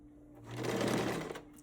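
A sewing machine runs steadily for under two seconds, stitching a 5/8 inch seam as a beginner sews. The motor makes a continuous whirring hum that builds slightly in the middle and then eases off, close by with no talk.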